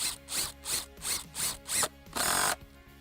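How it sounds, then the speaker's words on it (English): SPAX PowerLag screw being driven into a wood beam by an impact driver with no pre-drilling: a run of six rhythmic hammering bursts, then a longer sustained buzzing burst, close and loud. "no extra tools, 1 impact driver, it's all go"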